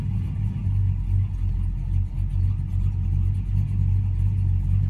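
An American muscle car engine settles into idle after the throttle is eased off, with a steady low, rumbling burble that stays close and loud throughout, no voices over it.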